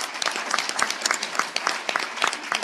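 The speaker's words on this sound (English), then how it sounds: "Let's give them a big round of applause." Steady applause from an audience at an education accountability announcement, many hands clapping together in a dense, continuous patter that holds for a few seconds.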